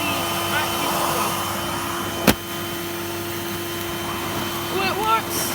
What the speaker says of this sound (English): Let's see what happens when we connect the vacuum over.